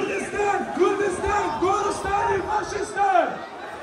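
Protest crowd in Brussels demonstrating against the Iranian government, many voices chanting Kurdistan slogans together in a loud, rhythmic, repeated call that rises and falls across the stretch, with no single speaker standing out.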